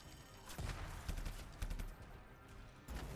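Gunfire rattles in the sci-fi shooter video game Anthem, with quick clusters of sharp shots. The bursts are separated by brief gaps and sit at a fairly low, steady level.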